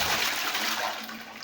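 A high-level cistern toilet flushing, a loud rushing wash of water close by, filling the whole short stretch without any speech.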